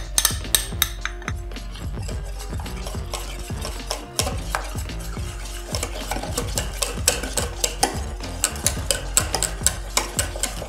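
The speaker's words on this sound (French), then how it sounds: "On va continuer ensuite à bien mélanger au fouet" Melted chocolate being whisked briskly into a soufflé mixture in a bowl, with a steady run of rapid clinking, scraping strokes, close and loud, alone without talk.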